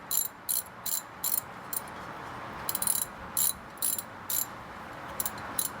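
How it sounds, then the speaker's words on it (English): A ratcheting wrench winds out a brake caliper slide bolt with a series of short, rapid clicking bursts separated by brief pauses, close and clear with no talking. "simply use your wrench, wind out the caliper slide bolt"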